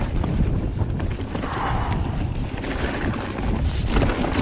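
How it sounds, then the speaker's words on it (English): Strong headwind roaring across a moving bicycle rider's microphone in stormy weather, a dense, continuous buffeting rush with gusty swells and no voices. "Oh, the wind. Crikey. It's very strong."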